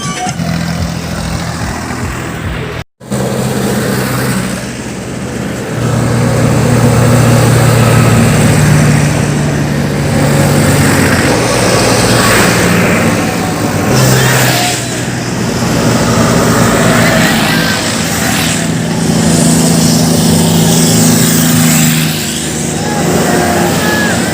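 Tractor engines rumble at a farmers' tractor rally, a steady low diesel drone with passing swells and occasional revs, loud and continuous, with a brief dropout near the start and some faint voices in the background.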